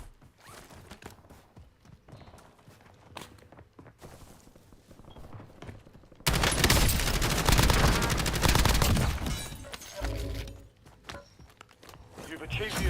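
Gunfire in the Call of Duty video game on the Verdansk map: a loud, dense stretch of rapid shots erupts mid-clip and lasts several seconds, then eases off, with quieter game sounds and voice chatter around it.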